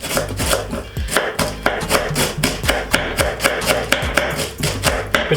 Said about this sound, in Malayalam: വളരെ നൈസായിട്ട് ഇങ്ങനെ അരിഞ്ഞിടും